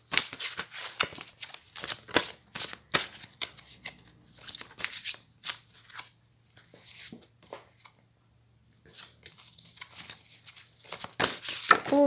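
Tarot cards being shuffled and dealt out, a run of soft papery slaps, flicks and slides that come in bursts, pause briefly near the middle, then resume, close and quiet with no talking.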